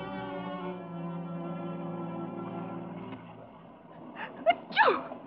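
In a radio drama scene outside a theater on a rainy night, a sustained tonal hum gives way to quiet, then a short, sharp sneeze bursts out near the end, close and fairly loud.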